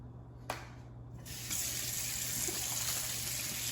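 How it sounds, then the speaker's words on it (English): Tap water runs steadily over fresh peppers being rinsed for a Nigerian vegetable stew, a continuous close splashing that strengthens after a brief knock and then keeps flowing evenly. "now I'm gonna prepare the peppers, rinse it out"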